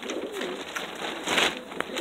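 Roller pigeons on a homestead coo softly in low, rolling calls over a steady outdoor hiss, with a brief louder flutter partway through and no speech.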